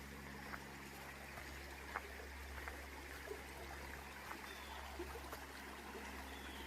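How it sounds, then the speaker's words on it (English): A river in the Red River Gorge and Clifty Wilderness area flows with a faint, steady rushing trickle, a continuous quiet stream with no talking. "Come to the river again."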